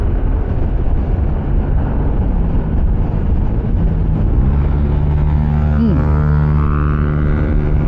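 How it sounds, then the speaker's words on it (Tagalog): A loud vehicle engine runs steadily throughout, a constant heavy rumble whose pitch climbs as it revs up partway through, near a flyover in Tagaytay. "Maingay yung makina."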